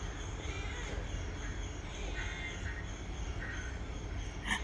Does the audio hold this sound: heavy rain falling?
no